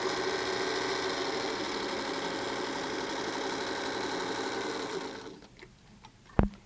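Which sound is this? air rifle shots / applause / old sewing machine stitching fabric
old sewing machine stitching fabric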